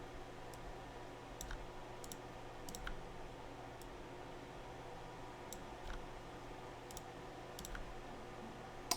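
Computer mouse clicks while drawing physics diagrams, a series of sharp, close single clicks spaced irregularly over a steady hum of background noise.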